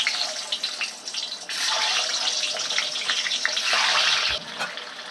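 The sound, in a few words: eggs coated in salt and turmeric frying in hot oil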